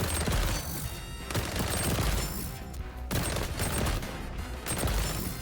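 Sustained, dense SMG fire with an extended magazine in the XDefiant shooter game, long rattling bursts with brief pauses between them, loud and close, with no talking.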